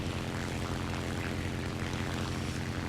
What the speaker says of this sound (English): This plane will take off at about 85, 90 miles an hour.